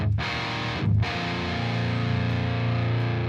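Heavily distorted metal guitar tone run through an amp simulator plugin, sustained chords ringing loud and alone with a brief choked gap before the tone swells back and holds.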